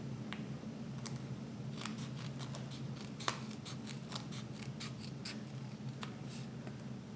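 Scissors snip x-ray film and tape to secure a neonatal endotracheal tube, with scattered crisp cuts and small clicks close by over a low steady hum, and no one talking.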